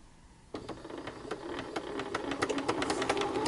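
Sewing machine stitching down paper for a junk journal, starting abruptly after a quiet moment and running as a rapid, steady ticking mechanical chatter that builds slightly, close and unaccompanied by speech.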